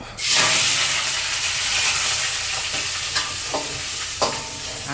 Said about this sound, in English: Now we fry until we got aromatic.